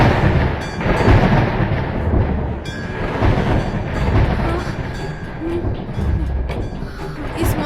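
A dense, loud thunderstorm with lightning, continuous rumbling and roaring noise that surges and holds steady throughout, heavy and close, with faint voices underneath.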